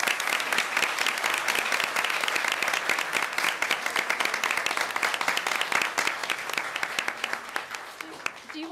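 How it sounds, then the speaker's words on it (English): At a Stafford Schools award ceremony, an audience applauds talented young singers with loud, dense, sustained clapping from many hands. The applause fills nearly the whole stretch and tapers slightly near the end. "please join me in giving these talented singers a round of applause"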